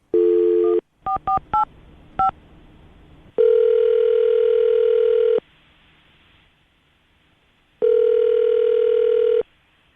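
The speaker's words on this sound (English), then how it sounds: "we're going to call her right now, see if we can get her on the phone" A dial tone, a quick series of keypad dialing beeps, then two long, loud telephone ringback tones separated by a pause.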